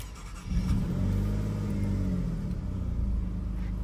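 An Alfa Romeo Stelvio Quadrifoglio's V6 fires on a cold start, catching quickly and settling into a loud, deep, steady idle rumble close by.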